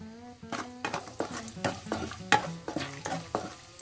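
Raisins being stirred and fried in a pan for gond laddu, with a quick run of scraping stirs over a soft sizzle, close and clear.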